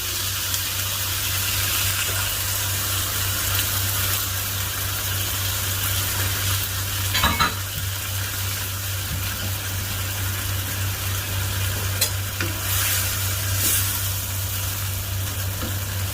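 Chicken stock goes into a pan for Tuscan chicken and simmers with a steady, even hiss and a low hum beneath, broken by a few brief stirring clatters and no voices.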